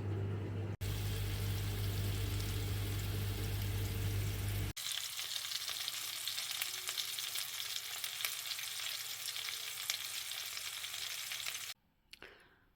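Loud, continuous sizzling and spattering of fish frying in a hot pan, close up, cutting off abruptly near the end.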